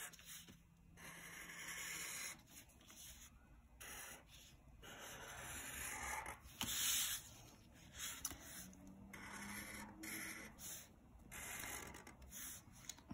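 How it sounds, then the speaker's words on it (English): A black marker outlines lines on paper in faint, close squeaky strokes, coming in short bursts separated by brief pauses, with no speech. "take the black marker from the marker box, and then we are going to outline all these lines"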